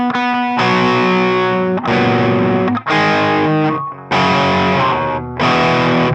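Distorted electric guitar plays a passage, with sustained overdriven chords in several long blocks separated by brief gaps, loud and close with no talking.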